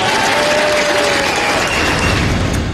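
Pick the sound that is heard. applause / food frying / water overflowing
applause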